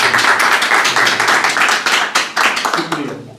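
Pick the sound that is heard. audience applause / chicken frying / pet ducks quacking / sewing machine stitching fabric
audience applause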